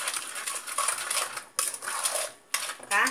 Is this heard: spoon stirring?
yes